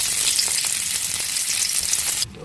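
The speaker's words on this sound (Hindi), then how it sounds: "ये हो गया हमारा घी गरम, और मैं इसमें डालूंगी मिर्च।" Chillies sizzle in hot ghee, a steady close hiss of frying with brief crackles, ending in a sudden drop in level.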